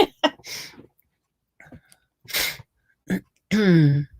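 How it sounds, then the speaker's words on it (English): A single sneeze from a congested person bursts out near the end, after a few short breaths and faint vocal sounds, close and fairly loud. "I've been sneezing today too."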